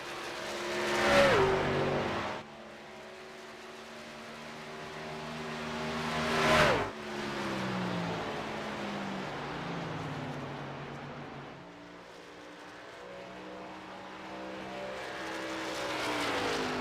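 Race trucks roar around the Homestead oval in a CORE Premier Series elimination race, engines droning steadily with two loud close pass-bys whose pitch sweeps down as they go by, then a continuing engine hum.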